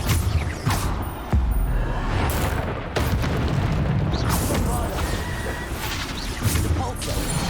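Spell blasts and explosions in the Hogwarts Legacy video game, with dense, continuous booming crashes and bursts in quick succession and a voice talking over them.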